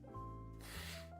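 A person with allergies and sinus trouble blows their nose once in a single close, breathy honking gust with a faint whistling tone, lasting about a second.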